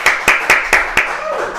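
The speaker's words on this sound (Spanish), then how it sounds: "Un aplauso para el invitado," A handful of distinct, evenly spaced hand claps ring out close and loud in a live studio interview, five sharp beats fading into a quieter tail.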